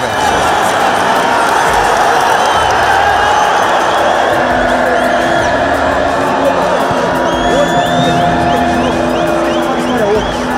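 Grêmio football fans roar in a packed stadium during a match against Juventude, a dense, loud wall of crowd noise with whoops and cheers rising above it, unbroken from start to finish.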